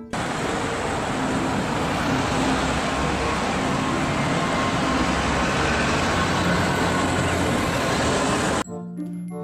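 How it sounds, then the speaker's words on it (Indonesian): A toy double-decker bus gives off a loud, continuous rumbling engine-like sound effect that runs steadily, then cuts off abruptly just before the end. "Wow, ada mobil bus tingkat."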